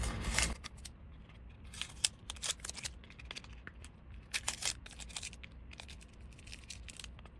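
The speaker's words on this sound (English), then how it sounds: "Let's remove our masking tape and see how it looks." Masking tape peeled off a plastic model of a 1971 Dodge Demon, quiet close-up ripping and crinkling in short bursts with small tearing snaps.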